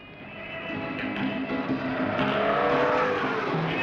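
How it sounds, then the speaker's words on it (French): A 1947 Chrysler drives along behind, its engine and tyre noise a steady, rising road drone that swells slightly over a few seconds, with no talk. "Tiens, cette voiture derrière nous, c'est une Chrysler 1947."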